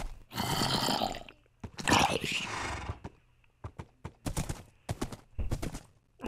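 Horse hooves clip-clop in bursts in Minecraft, the video game, loud and close, with rhythmic gallops separated by short pauses as a rider heads off searching.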